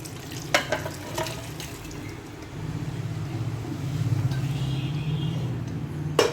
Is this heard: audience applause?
no